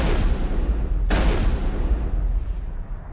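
Gunfire in the Mass Effect video game: a dense, loud burst of shooting and rumbling booms continuing for about three seconds, with a sharp crack near the one-second mark over a steady low roar.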